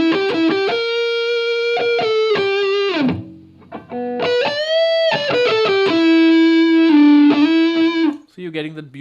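A PRS Private Stock 8-string electric guitar, played on the neck pickup through a tube screamer with heavy reverb, rings out loud sustained distorted lead notes and slides, with short pauses between phrases.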